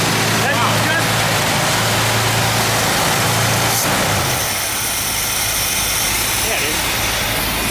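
A 1974 GMC wrecker tow truck engine runs smoothly and steadily nearby, a continuous low rumble with broadband mechanical noise that stays even throughout.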